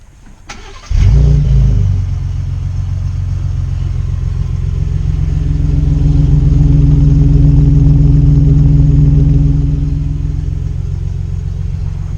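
A 2018 Ford Raptor's twin-turbo V6 EcoBoost fires up warm with a sharp crank and flare, then settles into a steady, loud, close idle rumble.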